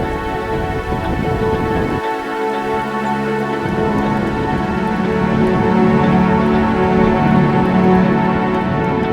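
Rain falls outdoors near a car park in Cornwall, a steady loud wash of drops throughout, with humming tonal sounds layered over it.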